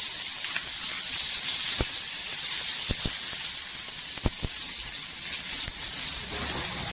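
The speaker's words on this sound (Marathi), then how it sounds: "कांद्याला छान असं गोल्डन कलरवर परतून घ्यायचा तेलावर" Onions sizzle steadily in hot oil as they fry toward golden brown, a constant close hiss with a few brief clicks and pops and no talking.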